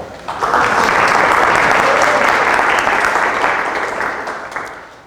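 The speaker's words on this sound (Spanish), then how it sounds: "Recibimos con un aplauso a la doctora Soto, por favor." An audience at a lecture on stress measures in the Mexican wolf breaks into steady, loud applause to welcome a speaker, a dense wash of many hands that holds for several seconds before tapering off.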